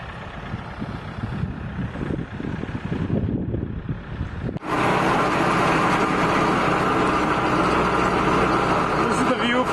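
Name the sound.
tractor with digger harvesting ginseng roots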